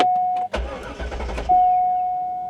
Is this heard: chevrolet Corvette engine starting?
yes